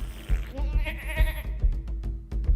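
A sheep bleats in short wavering calls, with a few sharp clicks and thumps around it; moderately close, no talking.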